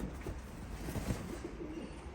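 Pigeons kept as breeding birds coo softly in a low, murmuring rhythm, faint and close, against a steady background hiss.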